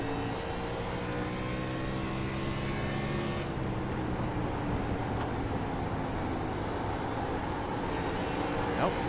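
Onboard a race car at Bristol Motor Speedway in an Xfinity series event, the engine drones loudly and without a break, its pitch sliding as the car moves through the corners.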